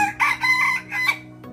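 An ornamental rooster crows close by, one full cock-a-doodle-doo in several loud, bright syllables over about a second, followed by a short start of another call.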